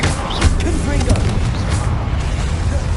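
Confringo blasting-spell explosions in the Hogwarts Legacy video game, heavy booming bursts and rumble that fill the clip, with a voice talking over them.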